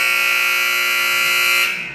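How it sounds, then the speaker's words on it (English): An ice hockey rink's end-of-period buzzer blares in one loud, sustained electronic tone that holds steady and then begins to fade at the close. "And there's your buzzer."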